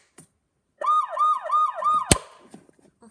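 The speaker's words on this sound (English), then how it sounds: "this one. Is the siren." A police siren wails in a rapid rising-and-falling yelp, cycling several times, then cuts off with a sharp click, leaving brief faint clatter.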